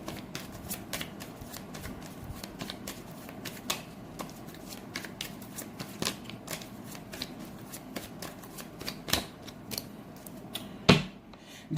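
A deck of tarot cards is shuffled close up, giving a long run of quick, crisp riffling clicks and flutters that ends in a sharper slap as the cards are squared.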